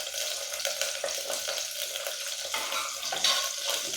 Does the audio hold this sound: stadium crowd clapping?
no